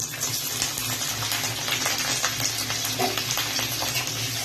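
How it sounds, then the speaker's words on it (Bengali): Chopped green chilies hit hot oil in a wok, giving a steady close-up sizzle that crackles continuously for a few seconds with no talking. "তেলটা গরম হয়ে গেছে, তেলের মধ্যে দিয়ে দেবো কাঁচা লঙ্কা কুচি"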